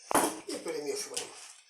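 A bowl of salted pike fillet with egg poured over is stirred with a utensil, giving light scraping and clinking against the bowl along with a sharp knock near the start, while a person speaks over it.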